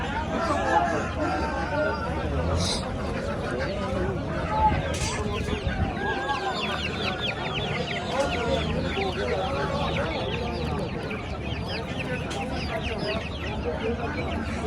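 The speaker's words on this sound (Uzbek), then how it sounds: "33 kunlik jo'jalar. Vaksinasi ham bo'lgan." Many 33-day-old vaccinated chicks cluck and cheep together at a busy poultry market in Quva, with a rooster crowing now and then, continuous dense fowl chatter under a steady hubbub of people talking.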